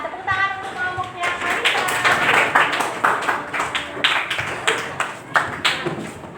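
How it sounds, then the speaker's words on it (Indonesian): Students in a classroom clap for a group, an uneven patter of hands with a few sharper claps, mixed with voices talking over the clapping throughout. "tepuk tangan untuk kelompoknya"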